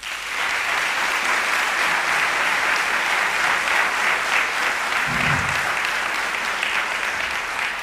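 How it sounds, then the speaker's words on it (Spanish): A theatre audience at a choral festival applauds its choir directors with sustained, dense clapping that holds at an even level for several seconds, with one brief low thump partway through. "desde aquí por favor un fuerte aplauso para ellos"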